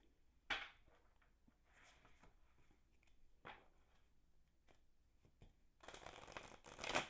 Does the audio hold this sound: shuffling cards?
yes